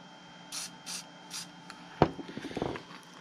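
A can of spray paint gives three short hissing bursts in a steady rhythm, close by, followed by a sharp knock and a stretch of scraping, rubbing handling noise.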